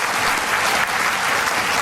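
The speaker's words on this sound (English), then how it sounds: "Let's give him an enthusiastic round of applause." Enthusiastic audience applause at a question-and-answer session, a steady dense wash of clapping from a crowd that fills the whole moment without pause.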